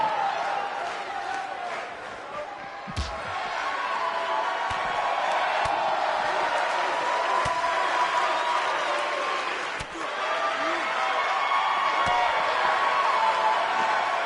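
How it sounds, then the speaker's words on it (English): A sold-out wrestling arena crowd in WWE2K19 keeps up a steady, dense roar of cheering. Occasional thuds and slams from the ring break through it, and an announcer's voice sits over the noise. "We have a sold-out, record-setting crowd here for BCW tonight."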